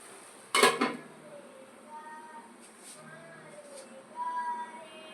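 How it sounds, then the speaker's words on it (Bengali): A lid set down on a cooking pot of Malabar spinach curry, one sharp metallic clank near the start followed by a faint tone and soft kitchen clatter, under quiet talk. "আবার আমি ঢাকনাটা একটু ঢাকিয়ে দেবো।"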